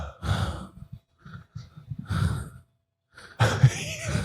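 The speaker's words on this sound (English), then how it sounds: "You're breathing like you're climbing up a stairs right now." Heavy, labored breathing from a person, several loud, close huffing breaths with short pauses between them, like someone winded after climbing stairs.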